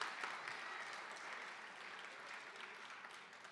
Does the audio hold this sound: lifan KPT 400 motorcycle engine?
no